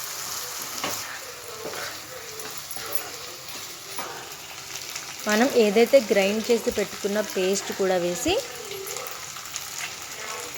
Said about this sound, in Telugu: వాటర్ అన్నీ ఎగించుకున్న రొయ్యలు వేసి బాగా వేయించుకోవాలి